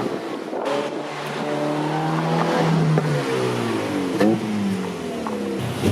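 A 2020 Ferrari F8 Tributo twin turbo V8 engine revving and accelerating, pitch climbing through several gear changes, loud and close with a brief tire chirp.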